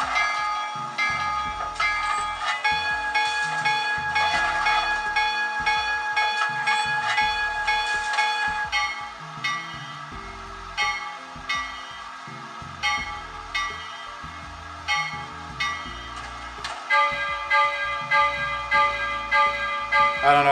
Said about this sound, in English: So you can have a hand-rung bell or you can have an air ringer.